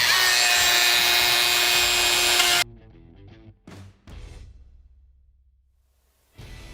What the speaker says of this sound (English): We're going to cut the tabs out, give them a quick sanding, and oil them up.